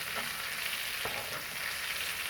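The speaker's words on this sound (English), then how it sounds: "take the large spoon and just baste it. Get those juices flowing on top of the steak." A rib eye steak sizzles loudly in an iron pan with garlic and thyme, a dense continuous frying hiss with faint spoon scrapes as hot juices are basted over the top.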